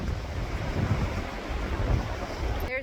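Gusty wind roars across a lake whipped into near-whitecaps, waves churning underneath in a steady loud rush, with a brief clatter at the very end.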